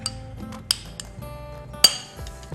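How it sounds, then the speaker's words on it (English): A spoon clinks against a bowl while coleslaw is mixed with sandwich spread, giving two sharp metallic pings and lighter scraping and tapping in a quiet kitchen. "So mix it up with our spread."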